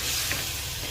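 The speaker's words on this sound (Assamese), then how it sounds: "মাংসটো ফ্ৰাই কৰিম" Mutton sizzles steadily in hot oil in a pan, a dense, continuous hiss close by with no talk.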